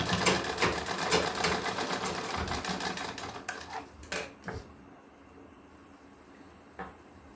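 Sewing machine stitching a balcony design late at night, running in a loud continuous rapid whirr for about five seconds, then stopping, leaving quiet room tone with a brief knock near the end.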